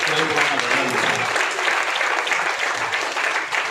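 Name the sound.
audience applause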